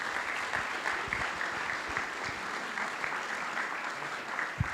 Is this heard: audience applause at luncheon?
yes